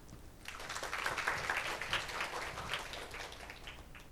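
Audience at a climate-tech investment conference in Korea applauding to welcome a speaker, a soft, steady patter of many hands swelling and fading, heard from a distance.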